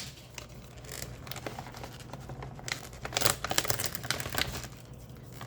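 A plastic zipper bag holding Schneiders schnitzel is pulled open up close, giving loud crinkling and tearing rustles in irregular bursts that grow busier toward the end.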